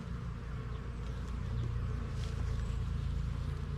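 Bees from a small hive colony buzz steadily and close by, forming a dense, continuous drone with no pauses and no voices.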